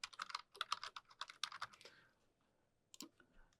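Someone types an email address on a computer keyboard, with rapid clustered clicks for about a second and a half, then a pause and a few final keystrokes, close and fairly quiet.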